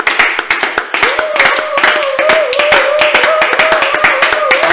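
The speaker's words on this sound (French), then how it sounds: "Acclamons très très fort le Seigneur." Church congregation clapping in a fast, steady rhythm at a prayer service, loud and close, with a sustained voice singing or calling out over the claps.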